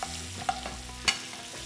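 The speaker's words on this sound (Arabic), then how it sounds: "نرجع بنبلش نسقي هاللحمه المميزه بالزبده الدايبه بقلب المقليه" A herb-crusted rack of lamb is basted with melted butter in a frying pan, producing a low, steady sizzle broken by two or three sharp spoon scrapes and clinks against the pan.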